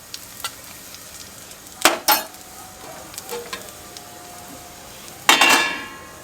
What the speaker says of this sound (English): So you just fry this, kind of like caramelize this onion.